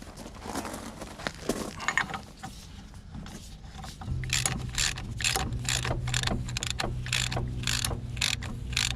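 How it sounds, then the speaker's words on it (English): A ratchet tightening the nut on a Ford Transit Mk7 front wheel bearing, heard as rapid, close mechanical clicks in steady bursts with a low workshop hum and no talking. "put the open nut on. While I'm here, tighten it up."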